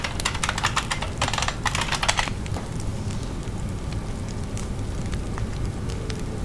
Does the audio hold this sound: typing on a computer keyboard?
yes